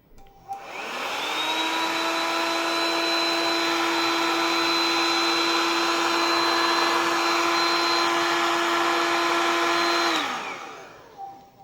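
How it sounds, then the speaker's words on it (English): A heat gun shrinking PVC heat-shrink tubing over a repaired broken wire blows a loud, steady whirring roar for about ten seconds, then cuts off abruptly, with no speech. "let's seal this PVC shrink with this heat gun"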